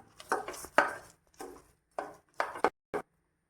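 Jaggery being stirred in a pan for rava kesari, a spoon scraping in short bursts with brief pauses between strokes, close and fairly clear with no talking.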